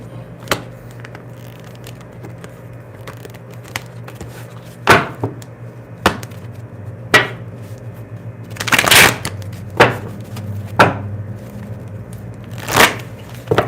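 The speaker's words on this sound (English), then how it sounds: "Let me shuffle real quick." A deck of tarot cards is shuffled close up, giving quick papery riffles and sharp slaps that come in uneven bursts over a quiet room hum.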